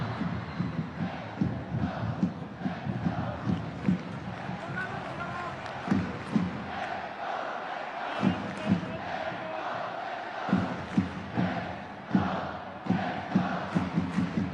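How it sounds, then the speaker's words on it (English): Football stadium crowd at a 2013 Kawasaki Frontale versus Shimizu S-Pulse match chanting for a goal, rhythmic rising shouts and drum-like thumps under a commentator talking throughout. "The crowd asking for a goal."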